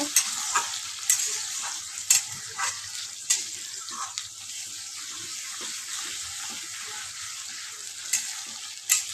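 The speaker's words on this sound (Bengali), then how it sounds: "আলু পেঁয়াজটাকে এখন তেলের ভিতরে দিয়ে ভালো করে ভাজা ভাজা করে নিয়েছি" Potatoes and onions fry in hot oil with a constant crackling sizzle, broken by regular scraping and clanking strokes of a spatula stirring the pan.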